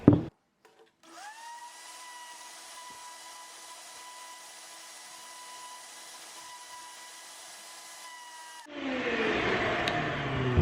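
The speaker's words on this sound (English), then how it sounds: "let's vacuum this off real quick" A vacuum cleaner clears loose debris from the interior of an Audi R8, a steady whining drone starting after a second and running close and constant before ending in a louder burst of noise.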